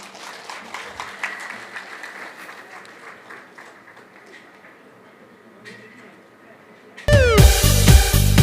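An audience at a reception and interaction program claps to welcome a youth team onto the stage, steady applause that slowly fades before loud music suddenly cuts in.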